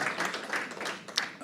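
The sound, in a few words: audience applause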